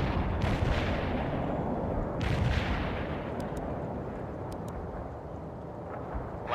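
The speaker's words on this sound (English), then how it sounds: "Light artillery barrage, fire at coordinates." A light artillery barrage booms in the real-time strategy game World in Conflict, with heavy overlapping blasts and a deep continuous rumble, sharper cracks near the start and midway before settling into a rolling roar.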